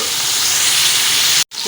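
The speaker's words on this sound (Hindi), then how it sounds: "अब इसको थोड़ा सा भून लें" Beef trotters fry in a pot with a loud, close, continuous hiss and sizzle that cuts off abruptly near the end before briefly resuming.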